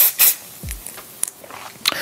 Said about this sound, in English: I want to shake this, and I'm spraying.